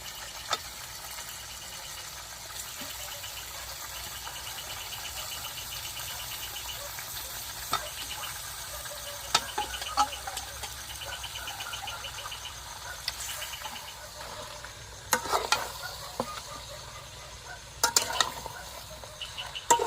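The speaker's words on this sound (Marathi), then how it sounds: "मासे टाकून घेते आता" Tilapia fish added to a simmering masala curry in a pan: a steady low sizzle and hiss runs throughout, with a few sharper clatters and stirring scrapes near the end.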